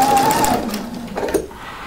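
A sewing machine stitching knit fabric for a jumpsuit runs steadily up close, a fast whirring hum that slows and shifts pitch partway through, with no talking.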